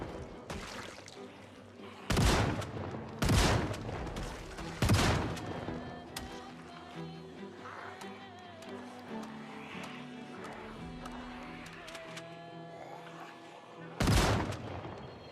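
Shotgun blasts in the zombie survival game Project Zomboid, about five loud booming shots spaced a second or more apart, with quieter game noise and faint movement between them.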